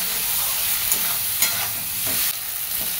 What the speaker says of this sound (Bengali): চিংড়ি মাছটা আগে ভালো করে তেলে ভালো করে কষিয়ে নিই।